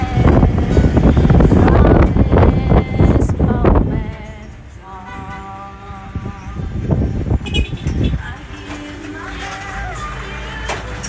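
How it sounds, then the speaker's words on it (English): Wind gusting hard across a microphone at a Caribbean cruise port in St Kitts, a loud, steady rumbling buffet that eases midway, with a faint high whine and brief background voices. "Windy."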